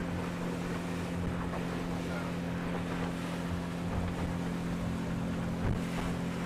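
A motorboat heading out on the water for shrimping, its engine a loud steady drone with a constant low hum, mixed with wind buffeting the microphone and rushing water.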